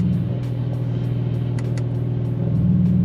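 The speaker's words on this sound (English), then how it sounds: "So I did a couple revs with the exhaust button off, and then I did some with the Poke Sport or Poke Sport, I don't know what that means, and then the exhaust on." Porsche 911 GT2 RS engine idling loudly with the exhaust valves open, a deep steady rumble that rises slightly toward the end, close and alone without talk.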